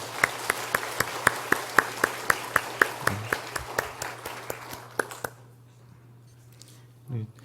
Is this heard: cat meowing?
no